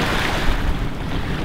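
Ocean waves breaking on a rocky shore in Kiribati, a loud continuous wash of surf with low rumble and wind buffeting the microphone throughout.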